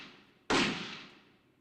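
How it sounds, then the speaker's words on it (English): A single sharp gunshot blast from the Ace Attorney Investigations 2 video game, a sudden loud crack that rings out and decays over about a second against a quiet background. "So, 2 shots were fired."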